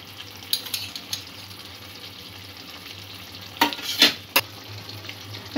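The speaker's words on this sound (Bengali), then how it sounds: "আরও কিছু মশলা যোগ করে কষিয়ে নেব।" Spices and chicken sautéing in a pan for chicken kalia, with a steady low sizzle under a few sharp spatula scrapes and stirs near the end.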